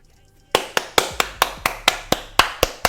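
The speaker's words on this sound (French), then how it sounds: "applaudissements." Hands clap close to a microphone, about ten sharp, evenly spaced claps following a short quiet moment.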